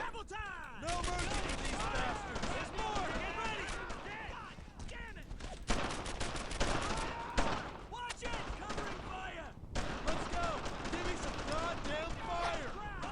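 Sustained suppressing gunfire in the WWII shooter Brothers in Arms: Earned in Blood, dense overlapping rifle and machine-gun bursts crackling continuously for the whole stretch with brief lulls, mixed with faint talk.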